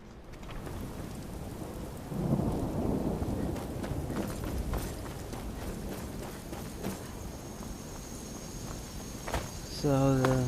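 Steady rain and rolling thunder fill a stormy outdoor scene in Skyrim on PS4, with a dense continuous downpour, a louder surge of thunder early on and a brief tonal game sound at the very end.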